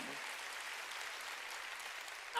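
Church congregation clapping during a sermon, a steady, even wash of many hands applauding throughout, moderately distant and without voices on top.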